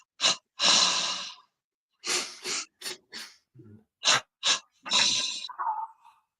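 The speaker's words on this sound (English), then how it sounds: "you breathe in 3 times through the nostrils, like this" Breathing in three quick sniffs through the nostrils, then out through the mouth, with a longer exhale on the last, close and clear in short puffs separated by silence, finishing with a soft sighing breath.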